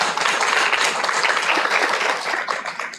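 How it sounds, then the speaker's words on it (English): Enthusiastic audience applause for a debate team at an HR debate competition quarter-final, many hands clapping densely and loudly before tapering off at the end. "a big round of applause for CDB"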